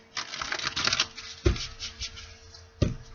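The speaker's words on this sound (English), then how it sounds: "So let's do 4 shuffles here." Tarot cards are shuffled by hand at close range, a burst of quick riffling flutter followed by two sharp, separate slaps of the deck, with no voice over them.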